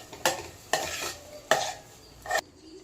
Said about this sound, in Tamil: இப்போது கொஞ்சமாக இதில் கருவேப்பிலை சேர்த்துக்கிறேன்.